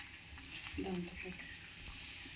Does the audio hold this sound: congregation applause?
no